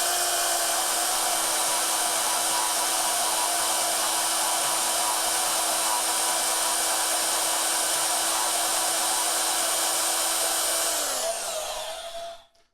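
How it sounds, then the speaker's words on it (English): A bandsaw runs with a loud, steady high-pitched whine while cutting, holding a constant tone for most of the stretch before the motor winds down and fades to silence. "The trick with a bandsaw is knowing when to hold off on the pressure."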